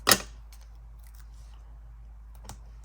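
Scissors make one sharp snip near the start while paper is trimmed for an Elf Avery candy cane card, followed by faint paper handling and a soft second click.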